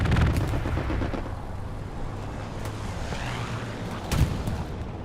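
Artillery barrage in the video game Hell Let Loose, Utah Beach map: dense rumbling explosions and gunfire fill the clip continuously, with a sharper blast near the end.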